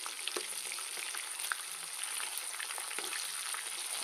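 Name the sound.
magur catfish frying crisp in oil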